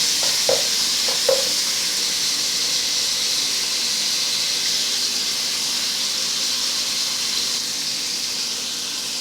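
Tomatoes sautéing in a pan give off a steady, loud sizzle with hissing steam, marked by two brief clinks of stirring near the start.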